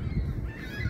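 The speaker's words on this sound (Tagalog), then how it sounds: "Yan, nagdating yung mga ibon dito." Geese honk loudly and continuously at close range in Angrignon Park, Montreal, a dense overlapping chorus of calls from a flock.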